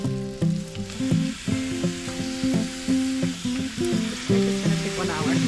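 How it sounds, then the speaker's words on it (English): Fat rendering in a pan with garlic, sizzling steadily with a continuous frying hiss, close by, under tonal background music and with no talk. "You want to hear that sizzling."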